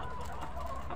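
Chickens clucking at a poultry farm with many eggs, a dense, continuous flock chatter heard close by without speech.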